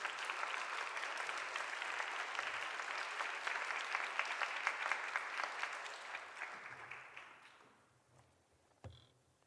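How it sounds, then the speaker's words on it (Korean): Congregation applause in a church service, fairly quiet and distant, steady clapping that gradually fades out over the last seconds, followed by a faint thump and near silence. "큰 박수"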